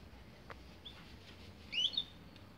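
A canary gives a few faint, thin chirps, with a brief brighter trill near the end, over quiet background hiss.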